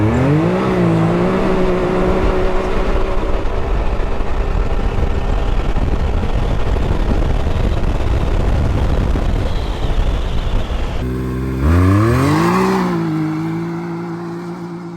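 A 2021 Can-Am X3 Max XRS Turbo RR side-by-side accelerates hard across sand on a speed run, its turbo engine roaring loud and close through rising gear pulls, then backing off, with a brief shift and surge near the end.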